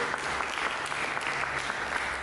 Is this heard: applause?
yes